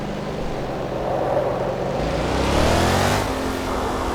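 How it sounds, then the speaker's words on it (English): A tornado in the Garry's Mod G-Disasters game gives a loud, continuous rushing roar that slowly swells and fades, close and steady with no talking. "Here we have our first tornado. It looks like an F1."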